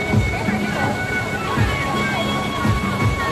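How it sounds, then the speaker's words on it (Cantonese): The three-tiered Xiangshuitan waterfall in Bijie, Guizhou, some 40 metres high, roars as a loud continuous wash of rushing water, with background music and a voice talking over it. "響水灘瀑布嘅水簡直就係咆哮而下"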